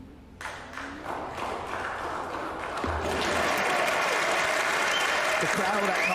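A crowd at the 2024 World Pool Masters quarter-final applauds a fluked pool shot, the clapping swelling from scattered claps into sustained applause, with a commentator's voice faintly under it.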